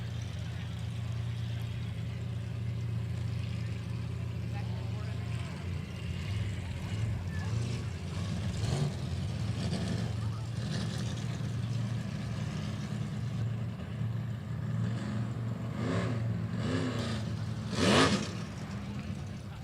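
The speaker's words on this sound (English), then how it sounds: "you can hear the engines revving for our 400 class" Race boat engines of the 400 class drone and rev in a steady low hum at a qualifying race, with louder surges of revving later on, some distant and some passing closer.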